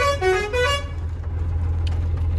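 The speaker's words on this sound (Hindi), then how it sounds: "इसमें कुछ इस तरह का प्रेशर हॉर्न है" Truck pressure horn blasting a loud, musical multi-tone honk for under a second close by, then the truck's engine idling steadily on its own.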